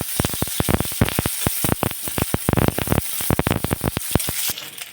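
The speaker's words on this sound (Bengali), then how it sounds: "পেঁয়াজটা ভাজা ভাজা হয়ে এসেছে" Chopped onions fry in a pan over tempering spices, giving a steady hiss with rapid, loud crackles and pops close by, and no talking.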